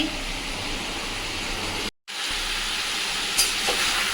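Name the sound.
chicken frying in oil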